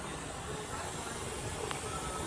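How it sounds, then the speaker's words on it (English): Steam hisses steadily from a pressure canner vent while red potatoes are being canned, a faint, continuous airy rush with no pauses. "Now, you see the steam coming up here."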